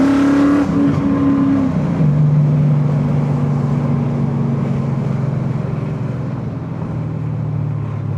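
A BMW M5 E39 V8 roars loud and close from inside the moving car, its steady drone shifting pitch as revs rise and fall with gear changes.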